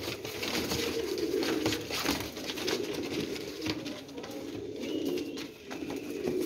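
Pigeons kept in pairs coo repeatedly in a low, throaty rhythm, close and continuous, with faint background clatter and no voices.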